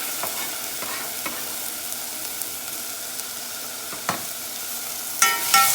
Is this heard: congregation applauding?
no